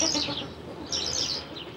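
A courting male bird with erect tail feathers and inflated neck pouches calls in two bursts of bright, rapid chirps and rising notes, fairly close, with a quieter gap between them.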